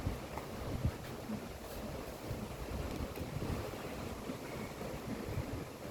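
Ocean waves wash steadily onto the shore at Maka'eo Beach, a continuous broadband surf roar with light wind buffeting the microphone, no voices present.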